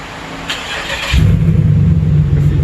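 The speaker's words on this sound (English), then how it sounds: "He's gonna rev it up a little bit, see what it sounds like." A straight-piped Impala SS engine catches and settles into a deep, loud, rumbling rev close by, with a throaty low growl and no talk.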